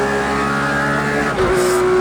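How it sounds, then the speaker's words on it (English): Porsche GT3 RS in a racing video game, its engine droning steadily at high revs, then a brief lift and shift before the tone climbs again with a sharp harmonic whine, loud and close. "Engine sound is well done"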